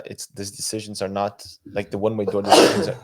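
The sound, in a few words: sneeze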